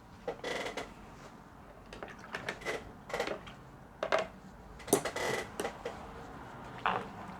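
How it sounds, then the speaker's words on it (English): A squeaky chair creaks in several short, separate bursts, some sharp and some drawn out, over a faint room background while watercolour painting goes on. "You have to excuse the squeaky chair."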